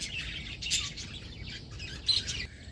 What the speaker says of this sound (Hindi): यहाँ पिंजरे में कुछ पंछी रखे हैं